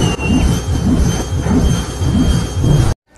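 A loud, continuous jet roar with a pulsing rumble fills the scene, then cuts off abruptly at the end.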